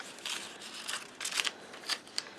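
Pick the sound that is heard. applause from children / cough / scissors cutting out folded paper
scissors cutting out folded paper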